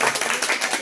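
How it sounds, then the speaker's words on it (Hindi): A classroom of students clapping together for a classmate, a short, dense burst of close applause. "अनीता के ताली बजा सारे सब लोग"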